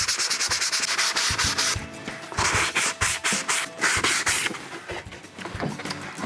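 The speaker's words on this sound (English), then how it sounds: "medium grit sandpaper, 100 grit first. And we'll go ahead and just sand it, both sides." Hand sanding of a pop-up camper cabinet with 100 grit sandpaper, steady rhythmic back-and-forth rasping strokes, close and fairly loud, with no talking.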